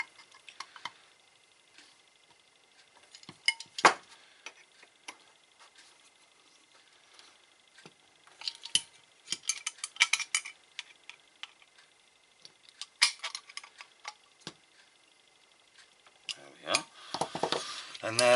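Threaded parts of a shielded RF choked half-wave dipole case being screwed together and tightened by hand: scattered light clicks, taps and metallic scrapes in short clusters, close and fairly quiet, with long quiet gaps and no talking.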